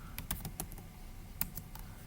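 Quiet, irregular clicks of fingers typing on a computer keyboard, a brief burst of keystrokes heard close and alone.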